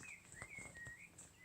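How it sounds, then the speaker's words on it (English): Thin, high bird chirps and trills drift in and out against a quiet outdoor background, faint and somewhat distant, with no voices. "You can hear the birds singing"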